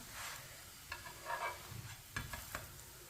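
A paratha cooking on a hot pan while being turned and moved around, giving soft sizzling with several light scrapes and taps, fairly faint and with no talking.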